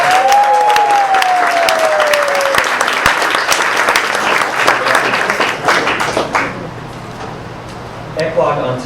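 An audience bursts into loud, dense applause at a gathering, with many hands clapping close by for several seconds before the clapping thins and fades.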